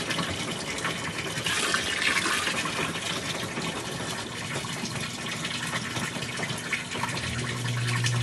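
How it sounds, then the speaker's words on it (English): Water drains from two machines at once, a steady loud gushing rush that flows without a break the whole time, with no voices over it. "we are draining both machines at once now"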